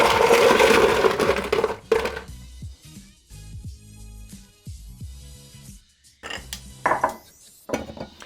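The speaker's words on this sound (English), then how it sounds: "You can hear the cracking of the ice." A bar spoon stirs a cocktail over ice in a glass, with a dense rush of ice churning at first, then scattered sharp clinks and cracks of the ice against the glass, nearby and fairly loud.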